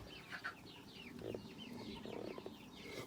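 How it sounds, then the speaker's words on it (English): Brahma hen clucking softly while laying eggs among a large backyard flock, low repeated clucks with chirpy bird calls around, faint and close. "That's a Brahma mum laying eggs."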